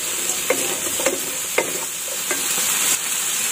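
Broccoli leaves stirred in a hot pan, a constant bright sizzle broken by several distinct scraping strokes of a utensil at irregular intervals, close up and without speech.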